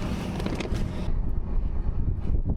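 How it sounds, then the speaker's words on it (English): Strong, cold wind buffets the microphone outdoors in the Alaskan mountains, a loud continuous roaring rush with gusts throughout, no speech. "it is so windy here and it's so cold"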